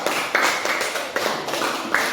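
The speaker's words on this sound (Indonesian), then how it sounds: "tepuk tangan untuk kelompok 1" Classroom clapping for a student presentation group, loud irregular bursts of claps from a small number of students, with taps and thumps among them.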